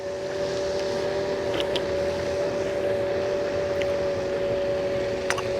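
An Emove Cruiser S electric scooter's motor climbing a hill hums in a steady whine at an even pitch, with faint rolling noise underneath and a few light clicks.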